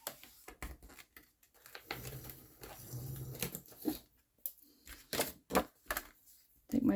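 A folded 6x6 card is creased with a bone folder, heard as irregular close, sharp scraping strokes and taps with short quiet gaps between them.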